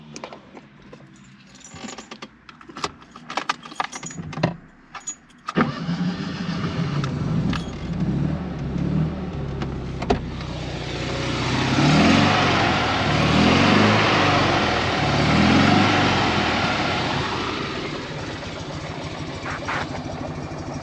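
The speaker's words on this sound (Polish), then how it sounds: "To próbujemy wystartować samochód." Fiat 126p Maluch, orange, cranking with key jangles and clicks, then its small engine catches at about five seconds and runs steadily, loud and close, with a rising and settling idle and no talk.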